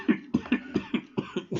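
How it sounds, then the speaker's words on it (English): A person coughs in a long, repeated fit of about eight harsh bursts in a steady rhythm, close to the listener, with no talking. "that's one long cough,"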